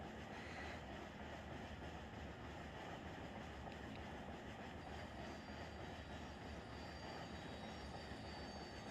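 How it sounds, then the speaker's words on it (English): A loaded grain train in the Run 8 railroad game rolls past as a continuous low rumble, with faint wheel squeal and rail noise and no voices. "It's like a grain train, don't it?"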